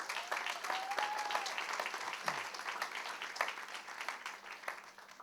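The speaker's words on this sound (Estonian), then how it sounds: "Teeme meile ka ühe suure aplausi." Steady applause from an audience at a church summer gathering, many hands clapping evenly and continuously at moderate distance, with no voices over it.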